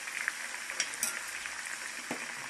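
Pork ribs fry in a small iron pan with a soft, continuous sizzle broken by a few light crackles and pops, heard alone at moderate-to-low volume.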